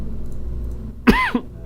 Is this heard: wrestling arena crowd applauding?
no